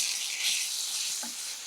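Vegetables with pepper and sauce frying for vegetable semiya give off a steady, soft, hissing sizzle that holds even throughout, with no voices.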